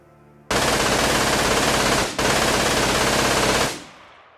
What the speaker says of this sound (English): The MG42 ending.